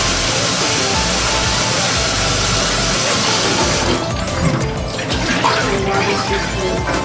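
Tap water runs steadily over chickpeas as they are rinsed in a sink, a constant broadband splashing that grows lighter and more uneven partway through, with no voices.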